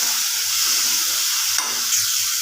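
Chopped tomatoes fry with onions in a pan, making a loud, close, steady sizzle with a sharp scrape of stirring near the end and no talking.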